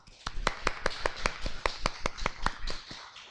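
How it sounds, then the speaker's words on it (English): A short, sparse round of applause at a school morning assembly: about a dozen distinct, evenly spaced claps from a small group, close and fairly loud, tapering off at the end. "So let's give him a round of applause."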